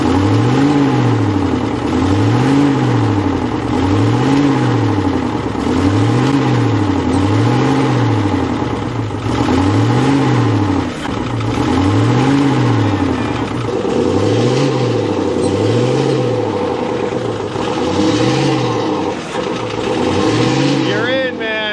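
A Ford F150 pickup truck engine revs hard at high RPM, a loud, steady drone with repeated rising-and-falling surges through the whole stretch, while people talk over it.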